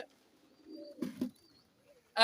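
Pigeons coo softly nearby in a few low, drawn-out murmuring calls, with a sharper rustle or flutter in the middle and a brief loud burst at the end.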